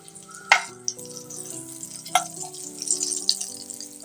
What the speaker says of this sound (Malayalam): ഈ പുളിയും കൂടെ നമുക്കൊന്ന് വയറ്റിയെടുക്കാം